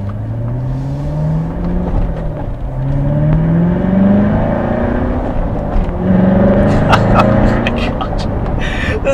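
A Corvette Stingray Z51 with 460 horsepower and its exhaust open, engine droning and rising through revs as the car accelerates, loud and close, with a few brief knocks or taps near the end.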